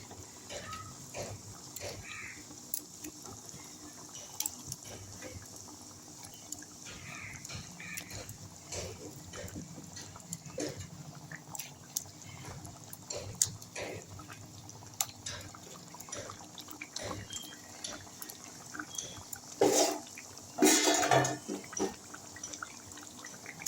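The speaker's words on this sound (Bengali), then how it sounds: "দেখুন এটা আস্তে আস্তে ফুটছে" Spicy fish curry of sarpunti fish simmers slowly in a pot, giving soft, close bubbling and irregular pops and drips over a quiet background, with a louder splash near the end.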